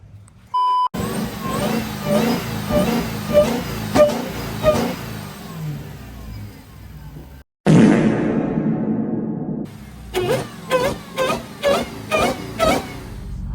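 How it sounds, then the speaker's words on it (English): A car with a swapped-in Hellcat supercharged engine revving, with whooshing rises and falls, a high supercharger whine riding over the engine roar, a brief cutout midway and then a string of sharp throttle blips. "Now we can hear the supercharger."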